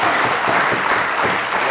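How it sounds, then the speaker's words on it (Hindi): A studio audience at a comedy talk show claps in dense, sustained applause, loud and close, filling the whole moment with no talk over it. "तालियों।"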